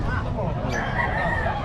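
Fighting rooster crowing amid a busy cockfighting-market crowd, its call blending into steady chatter and babble from many people talking nearby.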